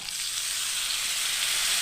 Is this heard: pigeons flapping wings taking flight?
no